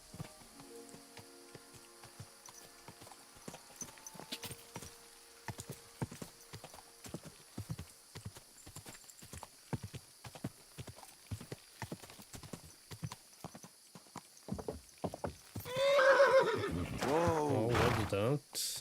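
Horse hooves clip-clop in a steady walking rhythm in the medieval video game Kingdom Come: Deliverance II, followed near the end by a loud, close neigh.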